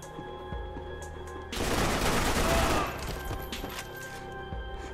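A burst of automatic gunfire from a shooting sequence in the Max Payne 3 video game, a dense, loud fusillade lasting about a second and a half, set against a steady, tonal game soundtrack.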